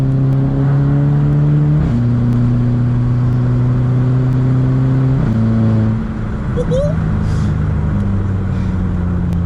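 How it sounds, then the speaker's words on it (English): A loud Volkswagen GTI engine revs hard through its DSG gearbox, with crisp stepped pitch drops at each quick upshift, heard close from inside the car while people talk. "Absolute magical shifting with the DSG box."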